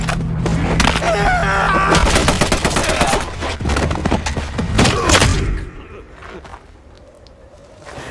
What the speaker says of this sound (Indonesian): suara tembakan memecah kesunyian Lapland